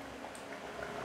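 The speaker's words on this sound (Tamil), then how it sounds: "நல்லா கொதிக்கணும்." A pot of thick black chickpea curry bubbles steadily at a rolling boil, a soft continuous gurgle heard up close with no talking.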